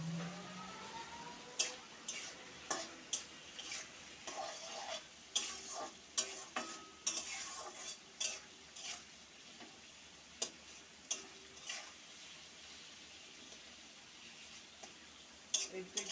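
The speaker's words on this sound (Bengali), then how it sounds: "একটু লঙ্কার গুঁড়ি দিয়ে দিলাম। এবার আমি এটাকে একটু কষাবো।" Chili powder and spices being sautéed in a pan for a small-fish curry, with soft sizzling under sharp, irregular stirring clicks and scrapes of a utensil against the pan.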